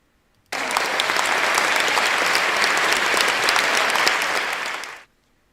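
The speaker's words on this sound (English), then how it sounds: "I'm about to play a clapping sound effect" Loud, dense clapping applause sound effect begins abruptly, holds steady for about four and a half seconds, then cuts off sharply, with no voices over it.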